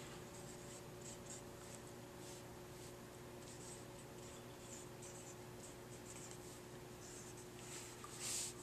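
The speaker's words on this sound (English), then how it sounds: "just let me write this down" A pen or pencil writes by hand on paper, making soft, continuous scratching close to the mic under a faint steady hum, with no voices.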